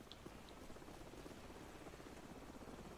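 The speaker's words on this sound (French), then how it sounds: "Attendez, l'hélicoptère revient." A helicopter in Call of Duty 4: Modern Warfare holds a steady low rotor drone overhead, moderately loud and continuous, with no talk over it.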